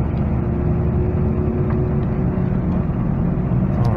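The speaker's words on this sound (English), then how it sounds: "Okay, so the Walker muffler is definitely a lot quieter." A 2003 Nissan Altima 2.5L with a Walker muffler drones quietly while driving, a steady low hum under road rumble with no talking.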